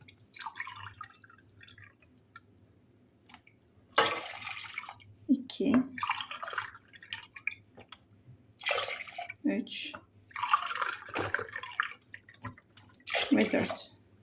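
Milk pours into a pot to make cream for a Malaga cake, splashing in several separate bursts of gurgling liquid with quiet gaps between them, close and moderately loud.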